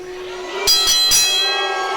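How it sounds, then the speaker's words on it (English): A ring bell opens a six-man tag wrestling match at an indoor show: three quick metallic clangs ring out over steady crowd hum and a droning tone. "Oh, the bell sounds. This one's underway."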